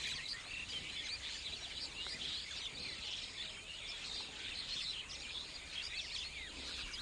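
Mynas chirp and call continuously in Kaziranga National Park, Assam, India, a dense, busy chatter of overlapping bird calls with faint insect-like trilling. The chorus is moderately distant and steady, with no speech.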